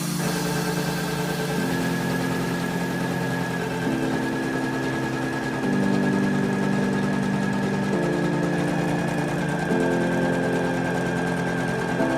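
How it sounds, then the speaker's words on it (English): A PooLin EOC06 embroidery machine stitches a design onto an apron, giving a steady, loud mechanical hum with a rapid repetitive needle drone that shifts pitch in stages and runs unbroken throughout. "Once ready, click Ready, then press Start to begin stitching."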